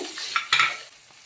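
Onions, dried chillies, eggplant and cumin fry in a pan as a short, close sizzle with scraping stirring strokes, heard on their own for just over a second.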